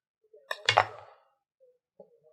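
A knife cuts open a peeled hard-boiled egg on a hard surface, making a sharp clink and a short scraping rasp, then two faint taps. Everything is close and quiet, with no talking.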